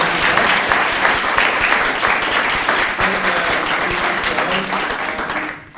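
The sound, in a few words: audience applause at end of panel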